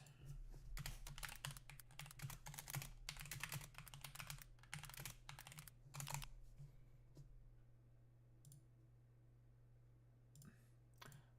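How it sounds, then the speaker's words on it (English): Computer keyboard typing in bursts of rapid, close clicking during the first six seconds, easing into sparse single keystrokes over a steady low hum, with no talk. "I was typing things"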